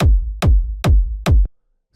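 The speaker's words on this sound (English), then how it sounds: "super powerful kick here" Four heavy, punchy kick drum thumps from a trance drum group land in an even, evenly spaced rhythm, loud and alone before the last one cuts off.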